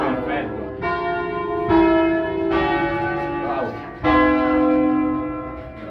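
Church bells in Bresso, near Milan, rung by hand in a solemn concert, sound loud and close with overlapping rich strikes at irregular intervals and a long ringing decay.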